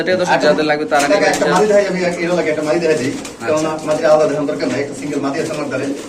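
King pigeons cooing at a pigeon market, a dense, continuous chorus of soft throaty coos from many birds, with people talking over it throughout.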